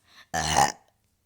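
A single loud, throaty burp goes straight into a close microphone, lasting about half a second after a faint breath, with no talk.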